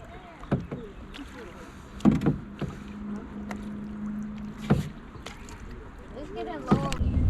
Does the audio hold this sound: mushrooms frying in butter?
no